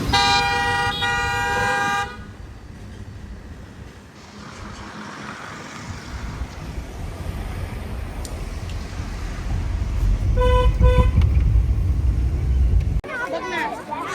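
A vehicle's horn blares for about two seconds as it sets off. Road and engine rumble follows, then a second shorter honk, with background noise throughout.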